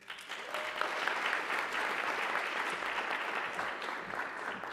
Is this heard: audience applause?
yes